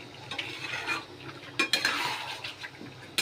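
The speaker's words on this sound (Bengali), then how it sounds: "ভালো করে একটু কষাবো" A spoon scrapes and clinks against a pan while chicken kosha sautés, soft sizzling underneath and several sharper metallic knocks, close and fairly quiet.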